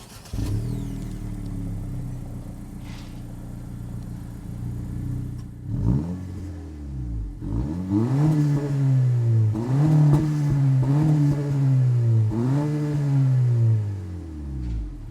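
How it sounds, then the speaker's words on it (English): An Acura Integra A-Spec engine idles, then revs repeatedly in several rising and falling bursts, with a deep, throaty exhaust note close by and no talking. "not only is the exhaust sound great"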